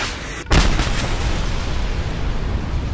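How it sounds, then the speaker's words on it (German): Just Cause 2 gunfire: a sharp, heavy blast of several weapons fired at once, followed by a booming, rumbling tail that lingers loud and close, with no talking. "Ja, ich schieß 4 auf einmal"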